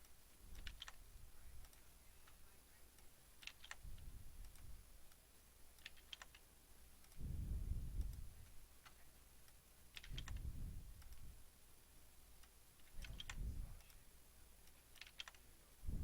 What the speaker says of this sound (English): I'm typing Control F to pull up the dialog box